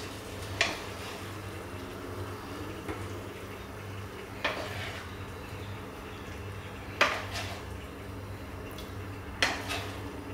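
Crispy pork belly stir-fry with silk squash and onions is plated onto a dish: a few sharp utensil-on-pan scrapes and clinks ring out at intervals over a low steady hum, with no talking.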